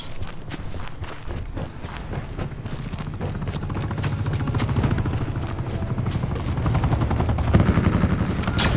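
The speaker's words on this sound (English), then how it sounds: "Firebreak requesting attack chopper pass." Attack helicopter in the Call of Duty Black Ops 4 video game, a steady low rotor drone under dense gunfire and clattering footsteps, building slightly louder through the busy battle mix.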